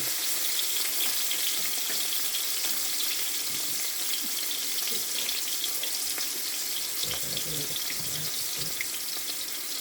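Breadfruit and saltfish sauteing in warm oil on a turned-down stove give a steady, close sizzle and crackle that runs without break and without talk.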